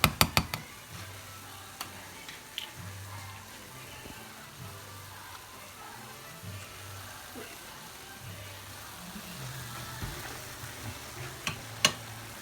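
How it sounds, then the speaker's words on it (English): Seasonings, including parsley, being stirred into a pescatarian cornbread stuffing, with soft intermittent scraping and mixing noises over a steady low hum and a few sharp clicks. "start mixing in those seasonings"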